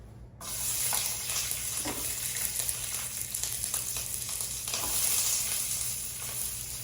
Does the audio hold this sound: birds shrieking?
no